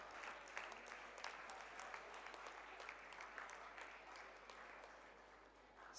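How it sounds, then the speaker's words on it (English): Applause from an audience at a school annual function prize distribution, a steady, fairly distant clatter of many hands clapping for several seconds with no talk over it. "Please give a big hand of applause."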